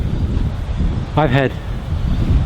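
Heavy, steady wind gusting to about 75 km/h roars against the microphone throughout, with a brief voice-like sound rising over the rumble midway.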